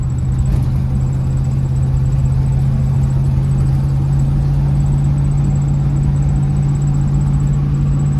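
A 1978 Chevy C30 dually truck rumbles steadily as it drives, its engine a continuous low drone with road noise throughout and no talking.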